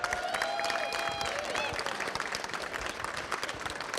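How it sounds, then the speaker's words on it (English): A crowd gives a round of applause at a gathering honoring someone, steady clapping that fills the space, with faint tonal sounds and a few voices mixed in early on. "just give him a round of applause real quick"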